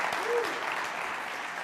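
Audience applause with a few cheers from a crowd at a talk on innovation, a steady wash of clapping held at moderate level for under two seconds, a single rising whoop near the start.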